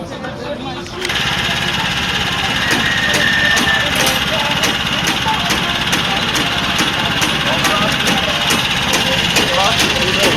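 A farm machine engine at a rural gathering of farmers in Doba fires up after a brief quiet moment and keeps running with a loud, steady rattling drone with rhythmic clatter close by.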